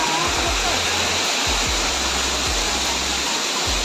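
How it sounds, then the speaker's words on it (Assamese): A waterfall at an eco park in Cherrapunji roars as a loud, steady broadband rush, with low gusty wind rumble underneath and no clear voices. "আৰু আছে তললৈ, ৱাটাৰফলো আছে"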